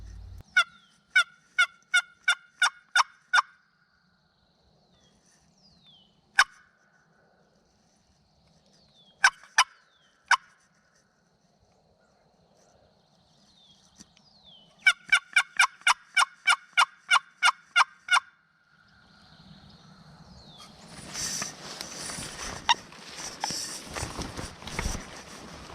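A wild Alabama longbeard turkey gobbles back at a box call in the woods: quick runs of raspy, evenly spaced yelps from the call alternate with single sharp calls, and the clip ends in steady rustling and movement noise.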